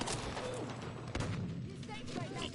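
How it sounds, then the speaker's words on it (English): Battlefield V multiplayer battle sounds: a loud broadband explosion-like burst with crackling gunfire and rumbling booms throughout, dense and continuous, with a voice talking over the din. "Oh, that's a big explosion."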